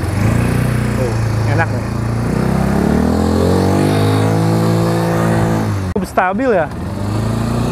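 Big ATV 200 Hammer Pro 2025 with an upright CVT automatic engine, ridden on a muddy track: a steady, loud engine drone with a rising rev toward the end, close by, under a rider's talking.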